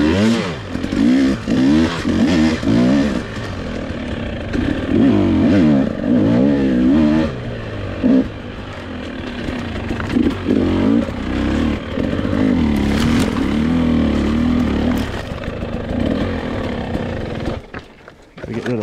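A 2021 Husqvarna TX300i motorcycle rides single track in Western Oregon, its engine close and loud, revving up and down in repeated surges with rattling and scraping over rough ground for most of the run.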